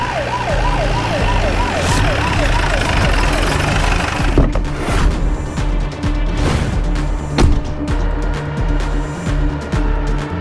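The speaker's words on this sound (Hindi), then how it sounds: "तभी वहां सबको एक पुलिस सायरन सुनाई दी" A police siren wails in a loud, busy street scene, its rising and falling sweeps repeating in the first seconds before giving way to traffic noise and clattering bursts.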